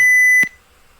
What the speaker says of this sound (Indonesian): maka alarm pun juga akan berbunyi